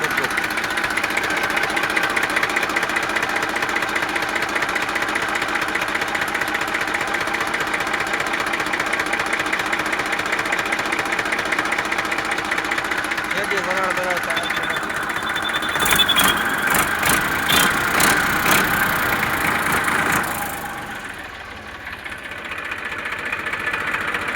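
A Massey 241 tractor's diesel engine idles steadily nearby with a low throbbing chug, a burst of rattling knocks near the end before the noise drops and returns.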